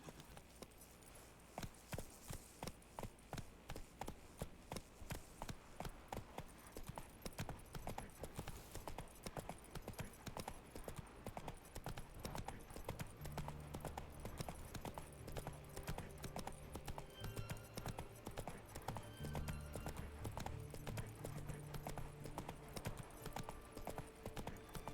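Roach the horse in The Witcher 3 gallops with a fast, even drumming of hooves that runs nearly the whole time, fairly quiet, with low game sounds beneath.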